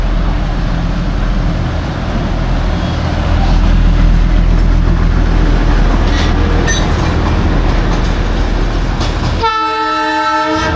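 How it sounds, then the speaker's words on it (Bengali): The Darjeeling Himalayan Railway toy train rumbles past close by at Sonada with steady rolling noise, then a loud horn blast sounds near the end. "হঠাৎ করে সামনে চোখে পড়লো দার্জিলিংয়ের টয় ট্রেন"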